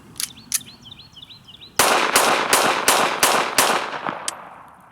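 A Ruger LCP II pistol is test-fired after being washed, giving a rapid string of about five or six sharp, loud shots in quick succession after some light handling clicks.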